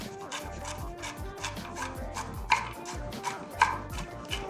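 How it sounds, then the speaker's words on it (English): Macadamia nuts rough-chopped on a cutting board with a knife, a close series of uneven knocks and crunches, with a couple of sharper taps standing out, no voices. "So all you're gonna do is run your knife over it like this."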